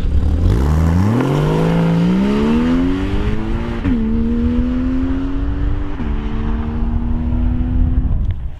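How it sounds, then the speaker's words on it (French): A car with its sport-mode exhaust valves open accelerates hard, its rising engine note climbing through gear changes with brief dips at each shift, loud and close, no voices. "nous allons maintenant faire la même chose mais avec les clapets mode sport ouvert et voilà l'accélération"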